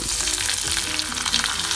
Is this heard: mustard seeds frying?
yes